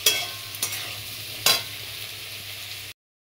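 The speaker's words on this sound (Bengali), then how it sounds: "ফুলকপিটা একটু ভালো করে ভেজে নিতে হবে।" Boiled cauliflower and potato being fried and stirred in a pan, a steady close sizzle broken by a few sharp scraping clicks of the spatula, with no voices.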